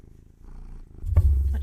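A cat purring close to a microphone, a low rumbling purr that starts faint and swells louder near the end, with some handling bumps.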